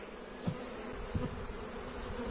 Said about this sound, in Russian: Как видите, пчелы в улье хватает.